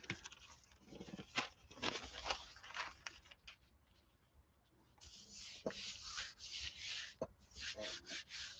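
Close, soft scraping of a hand rubbing across a thin Gelli printing plate, coming in uneven bursts of rasping strokes with a quieter pause in the middle.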